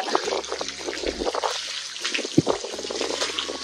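Water spraying from a hose pipe outdoors, an uneven trickling and splashing with a few sharper spatters, fairly close and moderately loud.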